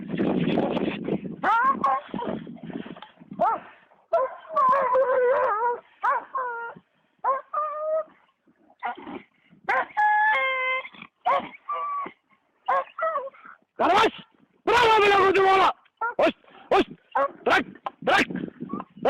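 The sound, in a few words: Kangal and Caucasian Shepherd dogs fighting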